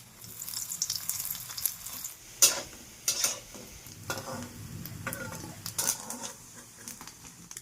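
Oil sizzles and crackles steadily as fish roe fritters fry, with occasional sharp spatters and stirring scrapes over the bubbling.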